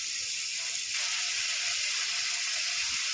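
Chopped tomato dropped into a pan of frying spices hisses in a loud, steady sizzle that swells slightly partway through and carries on evenly.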